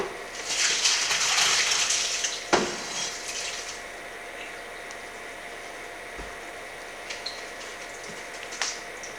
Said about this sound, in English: We're going to dump the water in there.